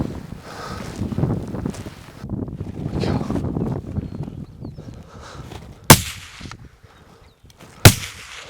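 Two sharp rifle shots ring out during a Kodiak brown bear hunt, about two seconds apart, over gusting wind buffeting the microphone outdoors.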